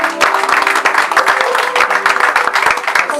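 A church congregation breaks into sustained, dense applause at a worship service, steady and loud throughout with no pauses and no speech over it.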